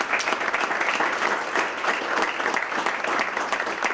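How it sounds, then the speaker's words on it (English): Audience applause at a senior awards breakfast for a global studies program, steady dense clapping from a room of people, sustained and even for several seconds without talk. "Can we have a round of applause?"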